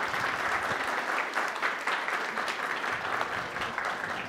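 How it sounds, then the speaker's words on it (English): An outdoor Sunday worship congregation applauds steadily, a dense wash of many hands clapping at once that holds at an even level throughout, with no voices breaking through. "Let's give her a round of applause."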